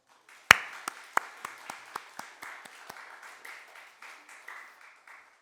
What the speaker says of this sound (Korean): 우리 아이들 이렇게 그 장학금을 받고 무럭무럭 잘 자라서 정말 교회와 세상에 아주 소중한 일꾼들 되기 바란다는 마음으로 축복의 박수 한번 보내줄까요?